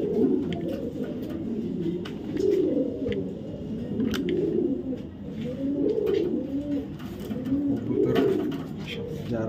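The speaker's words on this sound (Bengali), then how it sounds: "কবুতরের সাইজ দেখেন, একদম বিগ সাইজের।" Large male racing pigeon cooing close by in repeated rolling phrases, with faint clicks and rustles around it and no talk.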